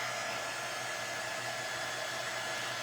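A hair dryer blows on a paintbrush during a Scrabble tile upcycling craft, giving a steady, close, loud whooshing hum with an even motor drone and no pauses.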